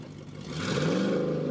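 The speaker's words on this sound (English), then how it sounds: "Magomed Amarov, we can hear his engine already." A drift car engine revs at Sochi Autodrom during competition, a mid-pitched roar that climbs and holds steady with a whirring, slightly clattering edge, loud and continuous.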